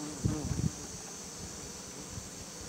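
Honey bees buzz at an open hive during an inspection, a faint steady hum beneath a brief burst of low voice near the start.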